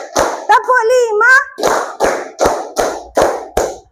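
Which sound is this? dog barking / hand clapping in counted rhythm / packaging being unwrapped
hand clapping in counted rhythm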